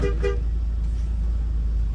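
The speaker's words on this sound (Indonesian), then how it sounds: "kita edukasi wajib untuk membunyikan klakson 2 kali untuk bergerak" A Hino bus on a training track sounds two quick horn toots close by over its loud, steady idling engine rumble.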